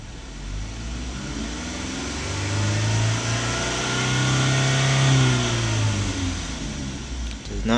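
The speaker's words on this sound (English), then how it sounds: "Let's try hitting the accelerator pedal" An older car engine swells from a steady idle into a smooth rev as the accelerator is pressed, then settles back down, heard close and continuous.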